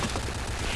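AK rifle gunfire in the Point Blank shooter game, a rapid, dense burst of automatic shots lasting under a second and heard on its own.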